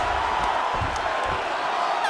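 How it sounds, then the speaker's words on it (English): A crowd in the EA Sports UFC 5 video game roars during a match between Kai Asakura and Kyoji Horiguchi, a continuous arena din with scattered whoops and thumps. "the crowd's appreciating the action here"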